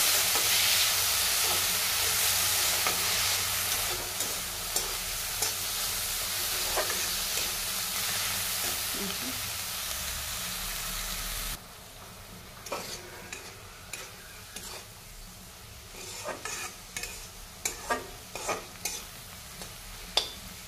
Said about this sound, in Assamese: এতিয়া এইখিনি ধুনীয়াকৈ লৰাই ভাজি ল'ম